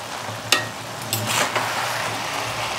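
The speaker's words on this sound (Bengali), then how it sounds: "চাউমিনটা নাড়ার জন্য আমি কাটা যে হাতাটা আছে সেটা আমি ইউজ করছি, যাতে ভালো করে মিশে যায়।" Egg chicken Hakka noodles are tossed in a hot pan with a slotted ladle over a low, steady sizzle. A few sharp metallic scrapes and clanks come in quick succession, close by.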